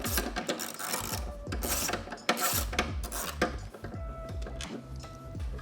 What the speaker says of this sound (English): We will need to take this 10mm bolt out of the chain case.